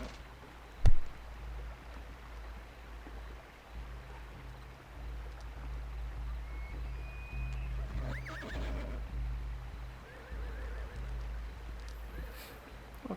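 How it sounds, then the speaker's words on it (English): Horses in the Second Life virtual world during an autumn festival, with one short, sharp neigh near the start standing out over a steady low ambient hum, then faint scattered calls and soft clip-clop-like sounds. "We'll go ahead and move past all these horses here."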